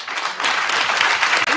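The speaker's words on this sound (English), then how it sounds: "This was your applause." Audience applause fills a conference hall in Berlin, a dense, steady wash of many hands clapping close and loud for under two seconds, with a brief dip near the end.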